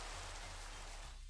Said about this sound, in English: The sound of the thunder is cool in the game, and the sound of the rain isn't bad.